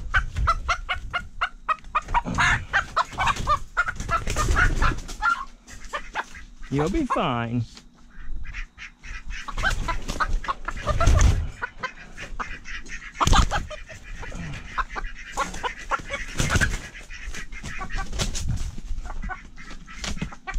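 Chickens cluck and squawk in a pen at a farm, with ducks and turkeys nearby, a busy continuous stream of near and far fowl calls under occasional talking.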